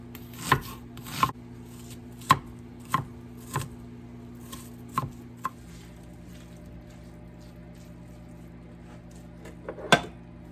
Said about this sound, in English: Let's get some onions cut up.